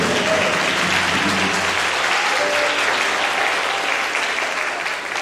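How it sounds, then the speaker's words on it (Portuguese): A church congregation claps steadily and loudly for about five seconds at a Portuguese-language gospel service, a dense, continuous wash of hand claps with a faint murmur of voices underneath. "Palmas, glória!"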